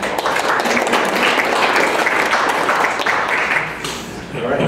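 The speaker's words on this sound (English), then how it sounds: "give a round of applause to Strong Loop and Galvanize for hosting us tonight" An audience at an evening tech meetup claps in a dense, sustained round of applause that fades slightly near the end.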